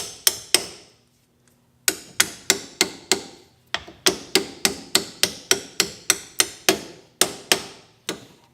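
Hammer tapping bolts into a truck's lower control arm while fitting a Rough Country leveling kit: a steady run of sharp metallic strikes, about two per second, close and loud, with a brief pause early on and no talking.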